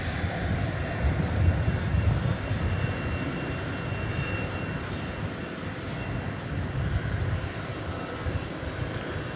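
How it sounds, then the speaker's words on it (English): A Bombardier Global 5000 business jet at DFW Airport at night, its steady broadband engine roar holding at a constant moderate level throughout, with no voices. "it's a Bombardier Global 5000"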